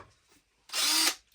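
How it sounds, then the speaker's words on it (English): A small rotary drill buzzes in one short, steady high-pitched burst, close by, then stops. "Let me pull out the mini drill"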